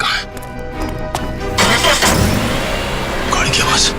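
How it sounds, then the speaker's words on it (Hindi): A car engine cranks and turns over, then settles into a steady running rumble, fairly close, with a busy background. "गाड़ी की आवाज।"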